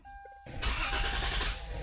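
A Lexus GS300 engine cranks with a sudden rush of mechanical noise that churns steadily without catching, as the unprogrammed key won't start it, close by, with no voices.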